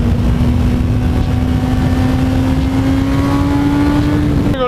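A 2005 Yamaha FZ1 1000cc sport motorcycle hums along at a steady, moderate pace, its engine giving a continuous close drone with a slight rise in pitch, then a brief abrupt change at the very end.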